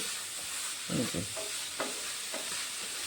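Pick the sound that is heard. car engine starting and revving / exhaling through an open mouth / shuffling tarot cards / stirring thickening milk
stirring thickening milk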